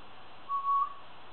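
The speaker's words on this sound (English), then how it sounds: "Yes, I just whistled." A person whistles a single short, clear note, soft and close, held for under half a second in an otherwise quiet indoor space.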